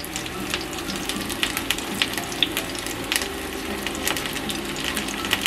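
Eggplant halves laid skin-side down in plenty of hot oil, frying with a dense, even crackle and popping spatter that runs unbroken and close.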